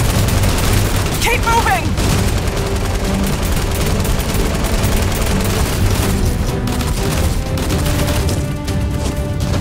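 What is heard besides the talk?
gunfire in Fortnite video game film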